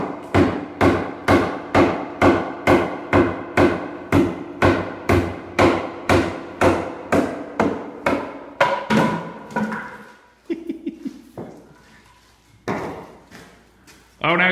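Repeated hammer blows knocking rotted wood loose during renovation of an old jailhouse building, a steady run of about twenty sharp, loud, close strikes, then a pause and a few scattered, uneven knocks.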